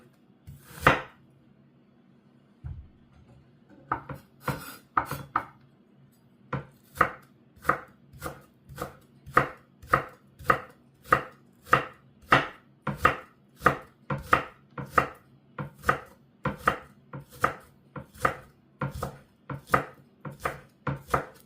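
A knife chopping onion finely on a cutting board for egg rolls, a sharp steady rhythm of about twenty crisp, evenly spaced strikes, close and alone.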